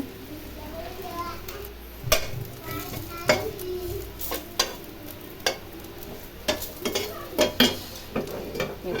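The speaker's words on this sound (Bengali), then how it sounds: "শুটকি টালতাছিলাম" Dried fish (shutki) frying in a pan and being turned with a utensil, sharp scraping and clinking strokes over a soft sizzle, with someone talking at times.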